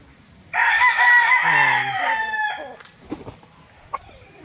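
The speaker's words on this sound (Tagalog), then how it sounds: "Ito tawag ko ng manok." A rooster crows loudly close by in Rosario, Batangas, Philippines, in one long, wavering call, followed by a few faint clucks and small knocks.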